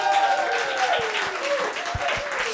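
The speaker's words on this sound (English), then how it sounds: "Give yourselves a round of applause." An audience at a live comedy show in Brooklyn claps under a sustained tonal background; the applause is moderate and fairly steady, with a few louder thumps.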